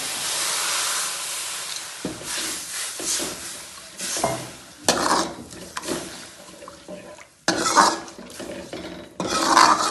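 Turmeric and spices fry in oil for lemon pickle as water is added, making loud bursts of hissing sizzle mixed with metal scraping and stirring of the pan, rising and falling in uneven surges.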